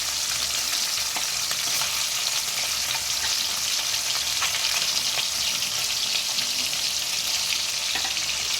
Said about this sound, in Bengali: ভেজে নিচ্ছি কারণ একসাথে ভাজলে তো একসাথে মাছগুলো আটকে যাবে জড়িয়ে যাবে